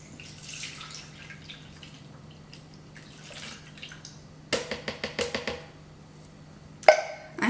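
A can of evaporated milk poured into a blender for coquito, a faint trickle at first, then a burst of close, rhythmic glugging splashes and a sharp final clatter.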